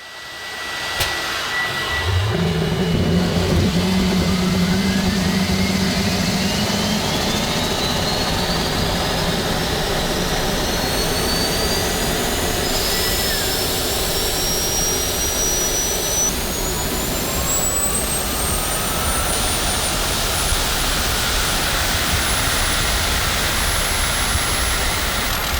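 A homemade turbocharger-powered supersonic engine fitted with a new nozzle roars through a test run, a loud steady jet blast with a whine that sweeps upward in pitch as it spools up and holds.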